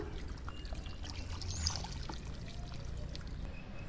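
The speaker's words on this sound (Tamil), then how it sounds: "இந்த மண் முங்குற அளவுக்கு முதல்ல தண்ணி சேர்த்துக்கலாம்" Water is poured steadily into a pot of soil being readied for planting lotus, a soft continuous trickle and pour, fairly quiet and close, with no one speaking.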